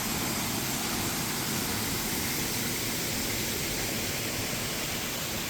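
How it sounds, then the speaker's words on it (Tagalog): A stream flows steadily at a tree farm campsite in Bailen, Cavite, a constant broadband rush of water that stays even and unbroken throughout. "naririnig na namin yung agos ng tubig"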